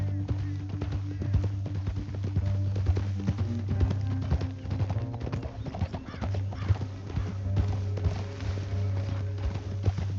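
Horse hooves gallop at a steady clip-clop rhythm in the Western video game Red Dead Redemption 2, loud and close, with an occasional whinny and a low steady rumble of game ambience beneath.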